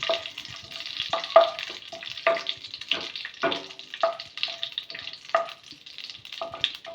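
Almonds frying in hot ghee or oil in a pan for carrot halwa, with a steady sizzle broken by repeated scraping clinks of a spoon stirring against the metal, close and moderately loud, no voices.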